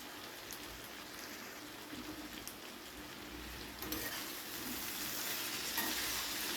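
Vegetables for a bitter gourd dish fry in a pan and give off a soft, steady sizzle and crackle. It is faint and close, and it grows slightly louder partway through.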